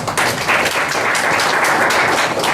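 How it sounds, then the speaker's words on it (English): An audience applauds steadily throughout, dense clapping with no pauses, fairly loud and close, with no speech over it. "He wants a round of applause too."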